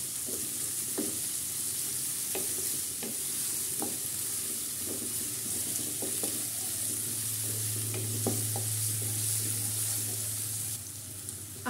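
Spices frying gently in a pan, a low steady sizzle punctuated by regular spatula scrapes and taps as they are stirred, with no talking.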